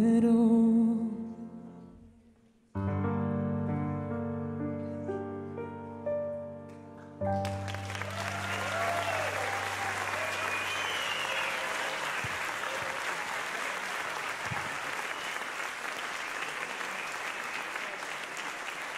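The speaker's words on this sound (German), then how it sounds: "dein Applaus" An audience at a live music show bursts into loud, sustained applause as the singer's final sustained note ends. The clapping carries on steadily, with some cheering mixed in.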